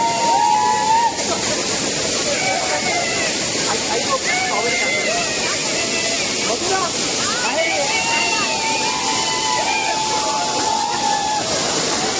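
Savdav waterfall near Kankavli roars as a loud, steady wash of falling water, close and unbroken, while crowds of people shout and talk over it.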